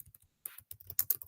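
Quick light keystrokes on a computer keyboard, a short irregular burst of close, crisp taps with a brief pause between clusters.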